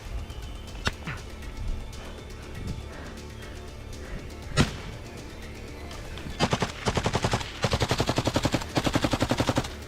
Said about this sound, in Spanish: Lanzan granadas y la balacera no se detiene